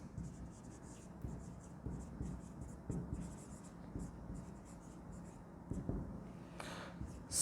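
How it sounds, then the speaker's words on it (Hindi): Handwriting during a Class 11 accounts lesson on the cash book, a faint hissing pen-on-surface scratching in short bursts with gaps, close by, ending with a sharper stroke. "थोड़ा ठीक से लिखते हैं।"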